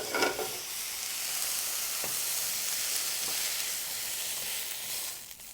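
Chicken sizzles and fries steadily in a hot pan, a continuous close hiss with a few faint clicks of stirring and no talking.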